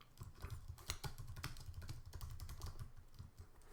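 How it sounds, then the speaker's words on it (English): Rapid, steady clatter of keystrokes on a computer keyboard while someone types into a Google Docs document, close and continuous with dense irregular clicks and no voice. "I can start typing in here"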